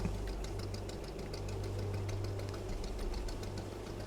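Fishing boat engine in the video game Fishing: Barents Sea, a steady low diesel throb and knocking drone at moderate level, continuous and unbroken with no voice over it.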